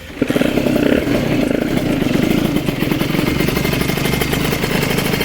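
A Honda Nova Dash 125 SP motorcycle engine revs hard and steadily up close, a loud buzzing rattle that holds without pause.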